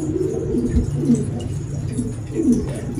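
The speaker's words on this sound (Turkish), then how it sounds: "Vallahi şu an kuşlar hepsi birbirine karıştı ya" Pigeons coo steadily inside a loft, several low, throaty murmuring calls overlapping at close range with no talk over them.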